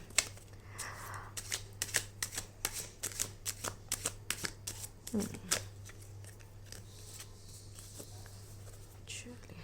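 Tarot cards being shuffled by hand during a reading: a run of close, crisp riffling flicks in a quick, uneven rhythm that slows and thins out, over a low steady hum, with a voice faintly present.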